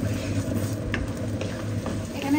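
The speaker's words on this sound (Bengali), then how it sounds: "এখানে পেঁয়াজ রসুন আর কাঁচা মরিচটা একটু ভাজা হয়ে আসছে" Onion, garlic and green chili fry in a pan, giving a steady close sizzle with occasional scraping stirs and no talking.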